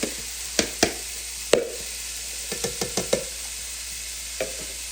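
Fennel sautéing in oil in a saute pan over medium-high heat gives a steady, close hiss of sizzling, with several sharp spatula clicks and scrapes spread unevenly through it.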